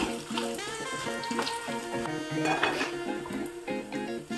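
Steady sizzling of red chillies and garlic frying in a pan for tomato chutney, with occasional clinks of a utensil against metal and faint background music.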